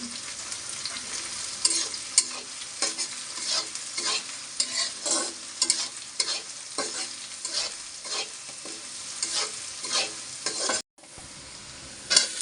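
Bottle gourd greens fry with garlic and chilli in a pan, a spoon scraping and stirring in repeated strokes over a steady sizzle, close and fairly loud, briefly cutting out near the end.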